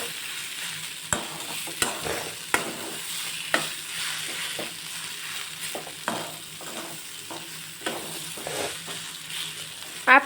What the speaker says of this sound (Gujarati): હવે આપણે બધું જ મિક્સ કરી લઈશું